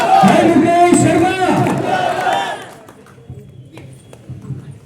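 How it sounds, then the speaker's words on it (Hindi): A large crowd at a public gathering shouts a loud, rousing cheer together for a couple of seconds. The cheer then cuts off into a quieter murmur of scattered noise. "एक बार ताली बजा करके जयकार जोरदार"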